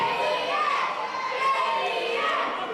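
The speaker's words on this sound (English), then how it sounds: "JDX hears the momentum from the crowd." Wrestling match crowd cheering and shouting, a dense sustained wash of many voices with high-pitched yells, steady and fairly loud throughout.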